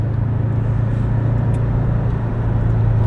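A Subaru Impreza 22B engine drones steadily from inside the car while driving, a loud, continuous low-pitched hum with a constant tone and no talk.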